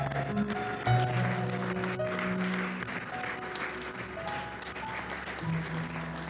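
Congregation in a church applauding and cheering in praise, a steady dense wash of clapping and voices with sustained music tones underneath throughout.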